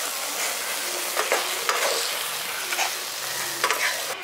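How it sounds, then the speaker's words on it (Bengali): Village-style jujube pickle with fried spices sizzles in a hot pan on a gas stove while a spoon stirs it, giving a steady loud crackle with scraping strokes at close range. "ভাজা মশলাটা দেওয়ার পর এটাকে 2-3 মিনিট একটু নাড়াচাড়া করে নিয়েছি।"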